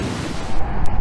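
Fast-moving floodwater in a creek along a highway near Muldoon, Fayette County, Texas, foaming as it rushes downstream, heard as a loud, steady broadband roar with no voices.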